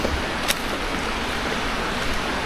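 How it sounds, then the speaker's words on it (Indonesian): Steady rushing water from a river flows below a hidden village in the forest, a constant broadband wash heard at some distance, with one brief faint click and no talk. "Dan di sini ada terdengar suara air ya."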